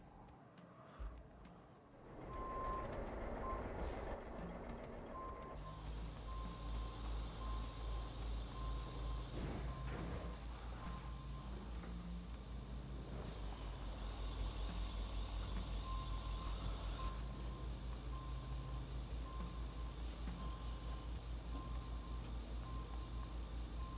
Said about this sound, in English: I jumped in this orange truck and rolled it right backwards